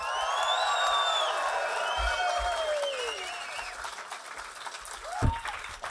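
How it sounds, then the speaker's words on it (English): A comedy club audience at The London Comedy Store whoops, cheers and applauds loudly for a stand-up comedian, the roar fading slightly toward the end. "Whoop, cheer, go fucking ballistic for the brilliant JJ Whitehead."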